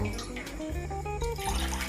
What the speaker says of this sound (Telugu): ఒకటి రెండు మూడు నాలుగు గ్లాసులు వాటర్ అయితే పోసాను